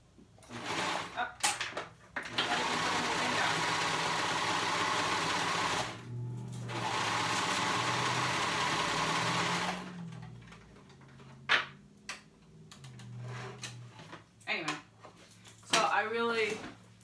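A cover stitch sewing machine runs over fabric for a baby project in two steady bursts, about four seconds each, with quieter handling clicks and brief talk between and after the runs.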